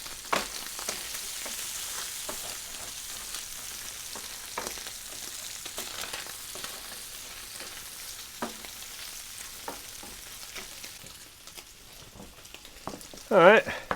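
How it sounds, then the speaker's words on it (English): Bacon sizzles and crackles steadily in a pan while a utensil stirs it, giving scattered scraping clicks and a sharper clatter near the end. "And give that bacon a stir again."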